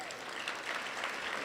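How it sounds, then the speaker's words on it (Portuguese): A church congregation claps together in praise, a steady, dense wash of applause filling the room at a fairly even level throughout. "dê uma salva de palmas ao Senhor"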